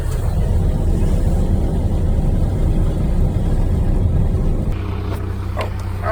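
A vehicle pulling a stock trailer on a road in below-zero cold gives a loud, steady low rumble of engine and road noise that drops slightly near the end, with a few faint knocks and no talk.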